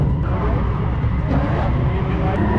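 A drift car with an LS V8 at a drifting shakedown, its engine droning and revving at a distance with a rough low rumble, plus hints of tire noise and faint talk underneath.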